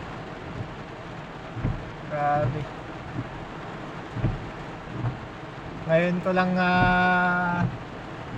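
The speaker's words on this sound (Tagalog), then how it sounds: "Ang lakas ng ulan" Constant heavy rain hiss in Riyadh, Saudi Arabia, with occasional low thumps, while a person speaks briefly in Filipino over it.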